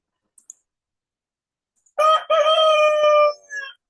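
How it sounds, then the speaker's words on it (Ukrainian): A rooster crows loudly and close by, one long cock-a-doodle-doo with a short break in the middle, preceded by a couple of faint clicks. "півник,"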